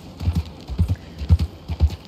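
Horse hooves clip-clop in Red Dead Redemption 2, a steady rhythmic walking gait of paired thuds, close and clear with no voices.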